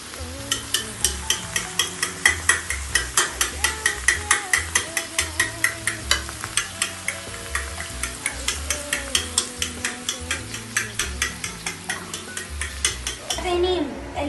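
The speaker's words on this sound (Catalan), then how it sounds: "Ara estem fregint els alls en una miqueta de sal." Garlic frying in a pan with a little salt, a sizzle under rapid, rhythmic scraping and tapping of a utensil against the pan that carries on for most of the stretch before slowing near the end.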